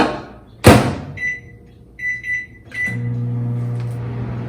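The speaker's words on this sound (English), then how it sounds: "The microwave is almost done." A microwave oven melting chocolate hums steadily, with a loud door clunk near the start, a few short high beeps, then the low running drone resumes to the end.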